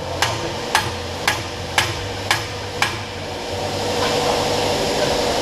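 A new boot pivot bushing hammered into place during a vehicle repair: six sharp metallic blows at an even pace, close and ringing, then a steady mechanical rumble carries on with no talking.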